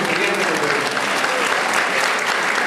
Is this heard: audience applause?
yes